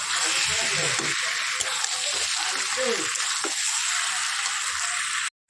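Tangra fish sautéing in a hot pan, a steady broadband sizzle running unbroken for about five seconds with faint stirring scrapes beneath, then stopping abruptly.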